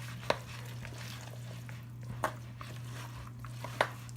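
A spoon stirs cooked sausage into softened cream cheese for a stuffed-mushroom filling, giving a few soft, scattered scraping clicks over a steady low hum, with no talking.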